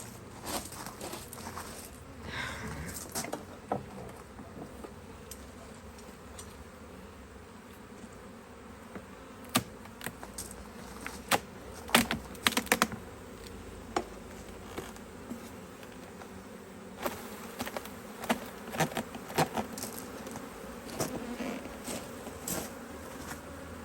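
Honeybees buzzing steadily through a beehive inspection of a standard 8-frame plastic hive, a continuous low drone with scattered clicks, bumps and handling noises from the frames over the whole stretch.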